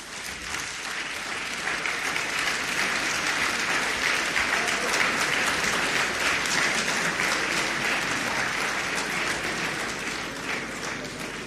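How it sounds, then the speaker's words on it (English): A large audience applauds steadily and loudly at a pharmacists' society presidential inauguration ceremony, with dense, sustained clapping for the whole stretch and no break. "I would like to ask the DG NAFDAC to stand up for special"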